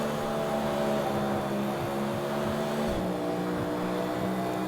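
Car engines and traffic sweeping past in the street-racing game CarX Street, a steady droning hum with layered engine tones, continuous and fairly loud, with no voices.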